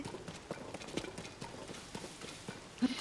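Horse hooves clip-clop in a fast galloping rhythm in Zelda: Tears of the Kingdom, quiet and steady throughout, with a slightly stronger thud near the end.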